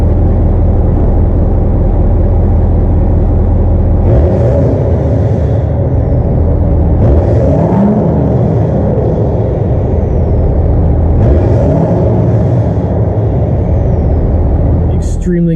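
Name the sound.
pickup truck interior while driving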